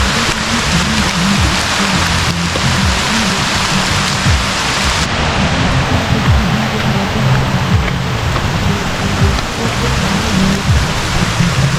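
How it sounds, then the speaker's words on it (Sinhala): Heavy rain pours down outdoors on a jungle trip, a dense, loud, unbroken hiss and patter at close range that continues throughout, with faint voices mixed underneath. "වහිනවා ඕයි වහිනවා"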